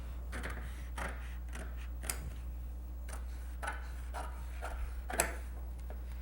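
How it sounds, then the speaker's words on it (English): Scissors cutting a sewing pattern for side and aft curtains, a series of faint, crisp snips at an uneven rhythm over a steady low background hum. "when I'm cutting this out, the scissors first"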